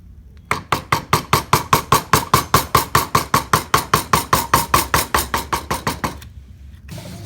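A wood carving ornament being chiseled, mallet striking the chisel in a fast, even series of about thirty crisp knocks, loud and close, with no talking.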